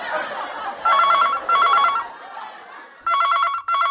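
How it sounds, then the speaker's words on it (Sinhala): A telephone rings in a radio comedy skit: four electronic bursts, two close together, a pause, then two more. The ring is loud and clear, with a voice heard briefly before the first ring. "ළඟ තියෙන ෆෝන් එක රින් වෙනවා ඇහෙන්නේ"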